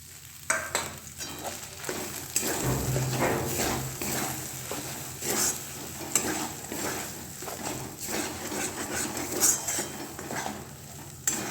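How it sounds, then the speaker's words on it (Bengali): A paste of green peas with asafoetida, ginger and chilli fries in a pan, giving a continuous close sizzle. A utensil scrapes and stirs it in repeated strokes, and no one speaks. "এটা ফ্রাই করি। দেখো, ফ্রাই হচ্ছে।"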